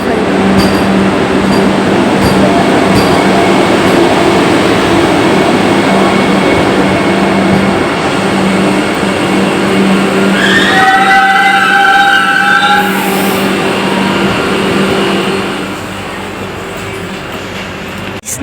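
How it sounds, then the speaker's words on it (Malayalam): A Vande Bharat express rolls into a platform with a loud, continuous rumble of wheels and carriages, and a brief high horn-like tone partway through before the noise eases. "നമ്മുടെ കോച്ച് ഇതാ വരുന്നുണ്ട്"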